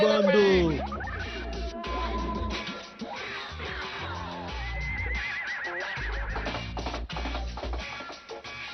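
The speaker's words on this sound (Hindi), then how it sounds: "तुम्हारा घोड़ा तो भाग गया" A horse whinnies loudly in a cartoon chase scene, with rumbling hoofbeats and busy action music as it bolts away; shouting voices and effects crowd the mix throughout.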